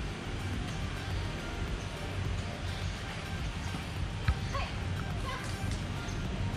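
A street dog in Ubud, Bali, gives a couple of faint, brief barks, nearly buried under constant loud outdoor road and traffic noise.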